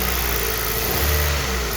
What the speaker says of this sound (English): let me rev it this side and then maybe you'll hear